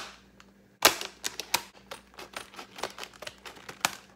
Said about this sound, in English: No perforated back, going in with scissors.